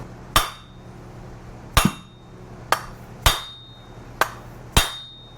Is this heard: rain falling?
no